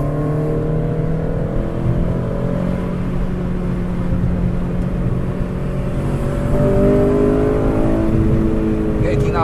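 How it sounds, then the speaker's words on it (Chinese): A manual-transmission car with a VTEC engine climbs a mountain road in third or second gear. The engine drones loud and steady, its pitch rising as it revs, and voices talk inside the cabin. "可以听到 VTEC 开的声音吗？"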